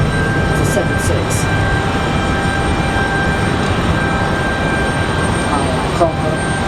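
An American Airlines Boeing 767 jet airliner in the old livery, its steady, broad engine roar filling the whole stretch at an airport on a windy day, with a faint voice briefly heard near the end.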